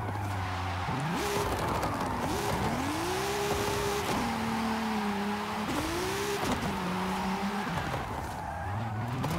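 Racing car engine in Forza Horizon 5, set up for drifting, revs loud and steady through the whole stretch, pitch climbing and dropping with gear shifts, while tires squeal and skid beneath it.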